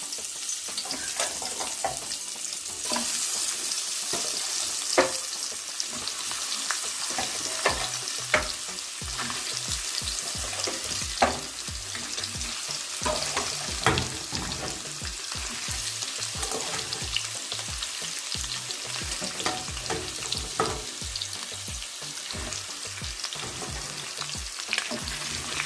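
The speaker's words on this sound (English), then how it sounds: "Our oil seems to be nice and hot, so I'll add my meat." Cow foot meat sizzles and crackles in hot oil in a pot for a Jamaican dish, a loud, continuous close frying hiss with occasional stirring scrapes, no voices.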